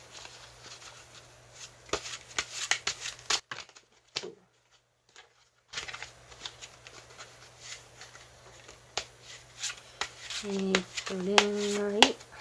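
Tarot cards being shuffled and drawn for a reading, soft papery flicks and slides arriving in irregular bursts, with a quiet gap partway through and a voice speaking over parts of it.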